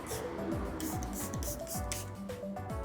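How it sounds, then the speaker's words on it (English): Cleaner is sprayed in quick, repeated bursts onto the emblems of an Audi S8, giving a close, hissing mist with soft rubbing and handling noises around it. "We're gonna spray it up underneath here."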